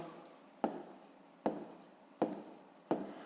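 Four short, evenly spaced scratches of a pen or pencil writing numbers by hand on paper during a fifth-grade math long-division exercise, each stroke a quick sharp onset fading out, close and quiet with no talk.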